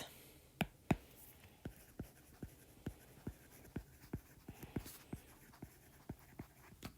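Pen or marker writing math on paper or a board, a quiet, close series of short scratchy strokes and taps in an irregular rhythm, with no talking.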